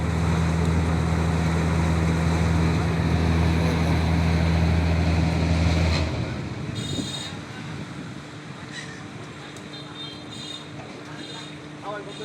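Stranded trawler boat straining to get free, its engine droning loudly and low for about six seconds before cutting out, leaving wind, splashing and scattered outdoor noise behind.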